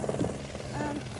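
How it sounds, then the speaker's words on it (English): Helicopter flying in over Corfu, a continuous rotor and engine drone that stays steady and fairly loud, with people talking over it. "There's a helicopter."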